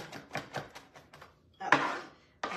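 A kitchen knife chopping on a cutting board while cooking Finnish salmon soup: about six quick, even chops, then a louder scraping stroke and a final knock.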